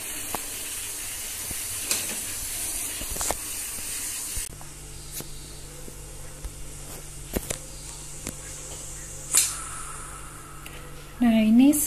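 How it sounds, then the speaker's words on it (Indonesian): A 16-liter, 32 cm Presto New Viva pressure cooker vents steam in a long continuous hiss with scattered clicks and taps, and a rising whistling tone shows up near the end. "setelah uap dari tengah sudah berhenti, dia otomatis akan turun sendiri"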